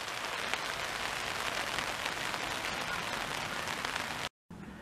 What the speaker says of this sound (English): It's starting to rain heavier now.